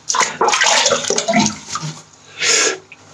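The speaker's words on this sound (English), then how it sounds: "So, I'll wet the face." Water is scooped and splashed onto a face at a basin before a wet shave: a few close, splashy bursts, then a brief pause and one last splash.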